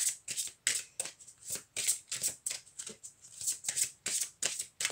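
Oracle cards are shuffled by hand in quick, rhythmic riffling bursts, about a dozen crisp flutters close to the listener with brief gaps between them.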